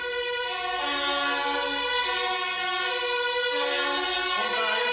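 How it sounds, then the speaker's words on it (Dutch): Emergency vehicle sirens wail on a city street, several layered rising and falling tones holding steady and loud for several seconds, with a shift in pitch partway through and no talking. "Is dit sirenes?"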